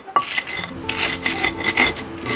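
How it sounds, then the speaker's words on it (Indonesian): Chili sambal tempong with plenty of bird's-eye chilies being coarsely pounded in a mortar and pestle, giving repeated close rubbing, rasping strokes in an uneven rhythm, with no speech. "Saya ulek ya teman semua."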